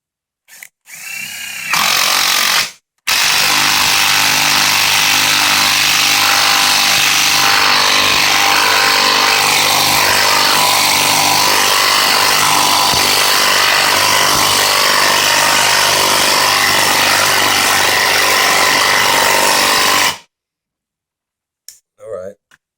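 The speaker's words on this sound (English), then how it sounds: "let's see if the Makita can get this bolt in. This is a 2-inch bolt." A Makita 12V impact driver hammers a 2-inch bolt home in one long, loud, steady burst of rattling impacts lasting most of the stretch, with brief quiet gaps before and after.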